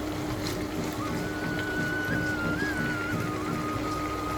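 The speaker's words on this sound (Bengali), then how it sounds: "তাই আমি সবজিগুলো এক এক করে সবই ভেজে নিচ্ছি।" Vegetables frying one batch at a time in a pan, cooked for a chicken and vegetable khichuri, give off a steady, soft, continuous sizzle. The sound is faint and uninterrupted, with no talking over it.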